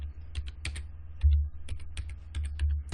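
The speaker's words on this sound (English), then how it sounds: "press enter and press F2 and enter my password," Password being typed on a computer keyboard, a close run of quick uneven clicking keystrokes in short bursts with brief pauses between them.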